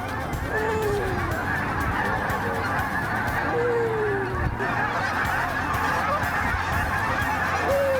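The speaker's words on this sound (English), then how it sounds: "Geese are starting to work." Geese honk repeatedly as they fly in during a Kansas waterfowl hunt, loud calls over a steady outdoor rumble.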